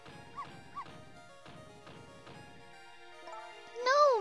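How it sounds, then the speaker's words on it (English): Small dog barking in the video game Ghost Trick: Phantom Detective, several sharp yaps in quick pairs, followed by a higher whining cry at the end. "No, Missile, you're not supposed to bark!"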